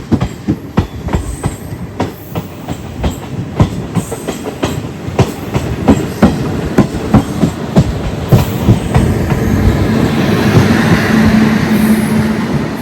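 A train rolls past close by, heard from aboard an ICF first-class coach, its wheels clacking in a steady rhythm over the rails, building into a continuous loud rumble.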